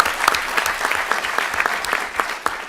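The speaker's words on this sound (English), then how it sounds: "Big applause to you, in fact." Conference audience applauding at the close of a session, a steady run of dense clapping with distinct hand claps audible, fairly close and without talk.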